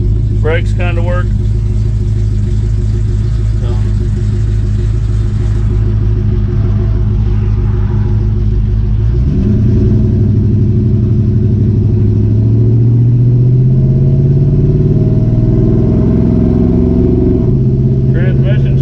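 A 1967 Chevy C10 pickup's engine rumbles loud and close from the cab, rising in pitch as it accelerates and shifts smoothly through gears, with someone speaking briefly over the steady drone.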